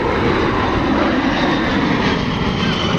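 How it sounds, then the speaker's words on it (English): Aircraft flying overhead at the Oshkosh air show, a loud, continuous engine roar that holds steady and fills the whole moment. "It is an air show, so we do like to hear planes going overhead."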